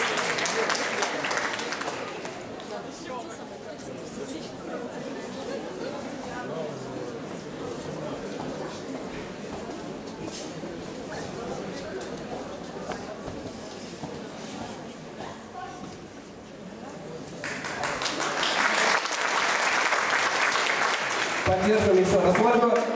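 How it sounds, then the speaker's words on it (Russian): Audience applause greets a student performer at a university reading event, a sustained dense wash of clapping that dips in the middle and swells again near the end, with a voice speaking over it at times. "Встречайте громкими аплодисментами"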